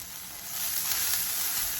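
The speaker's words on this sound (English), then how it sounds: "I'm just going to throw some garlic in there" Garlic sizzling in a hot pan alongside softened ingredients, a steady bright hiss that swells slightly midway, close and unaccompanied by talk.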